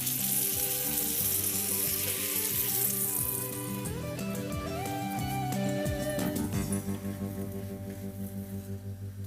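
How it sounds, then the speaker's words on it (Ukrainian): Loud, steady sizzling and crackling of cabbage-filled chebureki pastries frying in hot oil, close up, with faint clinks and tonal hum underneath. "кожну нову партію чебуреків я смажу на новій олії"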